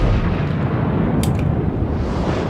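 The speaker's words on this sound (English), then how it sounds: "Now I'm firing at the Bismarck." Main guns of the Tier 9 German battleship Friedrich der Große fire in World of Warships, a heavy rumbling artillery roar filling the whole moment.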